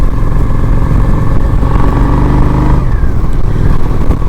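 A Honda Shadow 750 ACE motorcycle drones loud and continuous while riding, its engine holding a steady rumble with a slight shift in pitch partway through.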